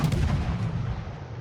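A warship's gun volley booms in a naval video game, a single heavy blast that decays over about a second.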